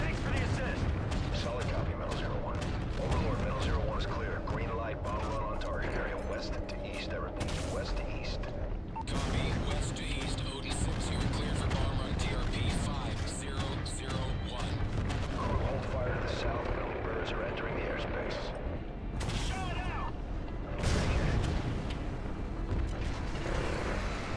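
Heavy gunship fire rains down on targets in Call of Duty Modern Warfare 3, a dense, continuous roar of cannon booms and rattling gunfire with radio chatter layered over it throughout.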